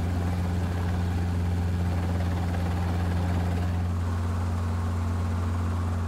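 A Sikorsky CH-53K heavy-lift military helicopter flies with a steady, loud, deep rotor drone and a continuous engine whine, alone without any voices.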